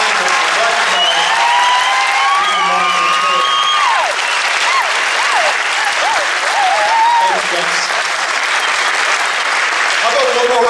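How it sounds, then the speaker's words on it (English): A large audience claps for teachers at an event, dense and loud continuous applause, with voices and high-pitched whoops and cheers rising over the clapping throughout. "How about a nice round of applause for the teachers who've given up their time"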